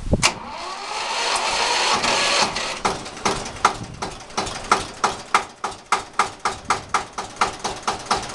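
Bautz AS 122 tractor engine cranks over with the starter, catches and settles into a steady, loud, rhythmic idle of evenly spaced chugging beats, close by with no talk.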